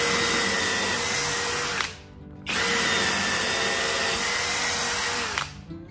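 A SKIL PWRCore 20V cordless drill driver spinning a long bit, a loud, close, steady motor whine in two sustained runs separated by a brief pause as the trigger is released, with no talking.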